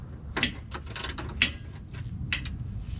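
A ratchet loosens pre-threaded bolts on a bull bar bracket on a 2019+ Ram truck, giving several sharp, close ratcheting clicks in short bursts against quiet background noise.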